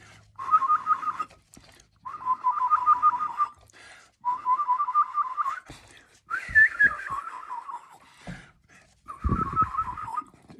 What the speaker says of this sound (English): I learned to warble whistle.